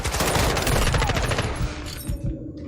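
Automatic M4 rifle fire in Modern Warfare 2 crackles in a loud, fast burst, then thins out into a few scattered shots and echoing tails.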